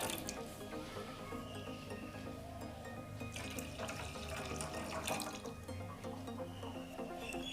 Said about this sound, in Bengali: এবার ওই কাপেরই আমি 2 কাপ এখানে দুধ দিয়ে দিচ্ছি।